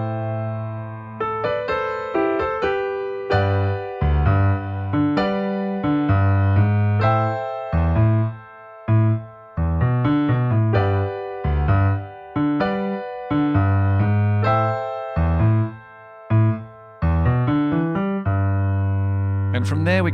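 Piano playing the intro and first chorus of a song, steady chords with a bouncing bass line and melody on top, close and full, alone without talk.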